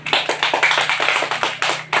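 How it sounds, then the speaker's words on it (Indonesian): A classroom group bursts into brisk applause, many hands clapping in quick, uneven bursts, close and fairly loud with no talking. "kita beri tepuk tangan untuk Kurnia."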